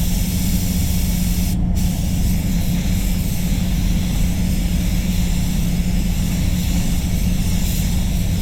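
A spray gun hisses continuously as red basecoat paint goes onto a Mazda 6, a loud, steady airy rush with no pauses.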